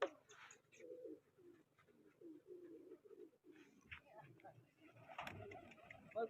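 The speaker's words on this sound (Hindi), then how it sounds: "कबूतर दोस्तों उड़ रहे हैं साइड से कबूतर" Pigeons coo in soft, repeated low murmurs, fairly faint, mixed with light ticking and other small bird sounds.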